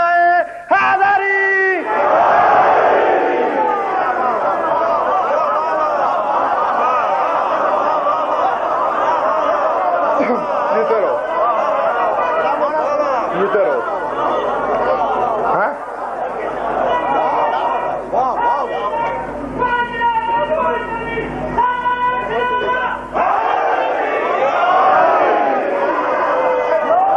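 A large crowd loudly shouting the Shia slogan Nara-e-Haidari in unison at a Sham-e-Ghareeban mourning gathering, a dense continuous roar of voices lasting the whole stretch with rhythmic chant bursts.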